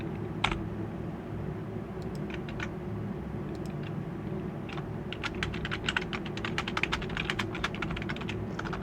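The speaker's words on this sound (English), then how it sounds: "we're just going to be typing an about me here for a little bit" Steady typing on a computer keyboard while writing a short personal bio, with quick irregular key clicks growing busier over time above a low background hum.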